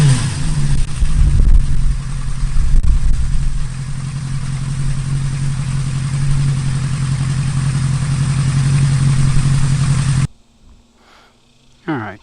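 A Honda CB550 motorcycle with a Mac muffler idles close by in a steady, slightly tinny drone, with a few throttle blips near the start, before cutting off abruptly near the end.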